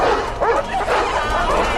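A pack of stray dogs in a 2006 horror film scene, barking, yipping and whimpering together in a dense, continuous din, loud and close, with some background film sound mixed in.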